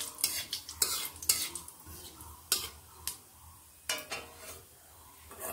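Whole cumin seeds being stirred in hot oil in a kadai, with a spoon scraping and clinking against the pan in irregular strokes over a faint sizzle, close by and alone.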